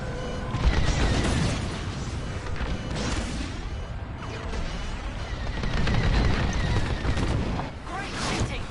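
In Star Wars Squadrons, starfighter cannon fire and explosions rumble and crackle continuously, loud and dense, with voices speaking over the space battle.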